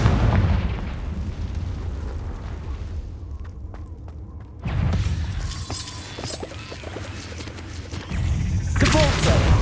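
Fiery Confringo spell blasts erupt in Hogwarts Legacy combat, loud booming bursts with heavy low rumble at the start, again around the middle and at the end, while a voice shouts spell incantations.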